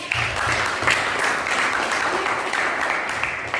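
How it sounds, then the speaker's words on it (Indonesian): A classroom full of students claps for a classmate, a dense, even patter of many hands that carries on steadily from start to finish. "Tepuk tangan untuk Faris"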